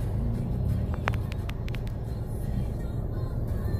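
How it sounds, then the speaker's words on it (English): Cars idle and creep along in a traffic jam, a steady low engine rumble with faint higher clicks, continuous and fairly close, no talking. "It's traffic jam."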